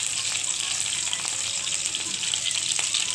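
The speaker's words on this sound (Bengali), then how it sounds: "দিলাম সরষের তেল। তো এর মধ্যে আমি পেঁয়াজ আর শুকনো লঙ্কাটা তুলে দিচ্ছি।" Onion and dried red chilli sizzle in hot mustard oil for a leafy jute-greens dish, a steady close crackling hiss with no voices.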